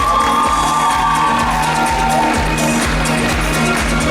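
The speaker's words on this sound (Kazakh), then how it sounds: "Қаттырақ шапалақ соғайықшы." Audience at a gala concert cheering and shouting for award winners, a loud continuous crowd roar with faint clapping over steady rhythmic music.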